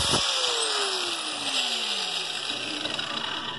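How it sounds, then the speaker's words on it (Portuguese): Angle grinder lightly skimming the teeth of a homemade steel rack gear, a steady high-pitched whine with a continuous grinding hiss, close and loud throughout with no talking. "Eu passo a esmerilhadeira só superficialmente."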